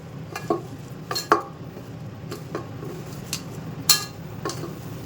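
Mango pickle being mixed by hand with salt and oil, giving soft wet squelching and stirring sounds with a few light clinks against the vessel, close and quiet, with no talking.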